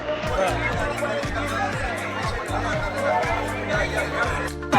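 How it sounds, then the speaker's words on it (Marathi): Large crowd at the Mahashivratri yatra fair in Akluj, a steady dense babble of many voices with a low, rhythmic repeating drone underneath throughout. "खूप गर्दी आहे. मागच्या वर्षीपेक्षा खूप गर्दी आहे यावर्षी"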